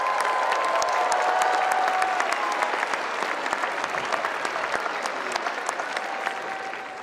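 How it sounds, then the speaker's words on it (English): Sustained applause from a large commencement audience at UNC-Chapel Hill honoring university employees, dense and steady clapping that slowly tapers, with faint crowd murmur. "Please join me in a round of applause for these dedicated Carolina employees."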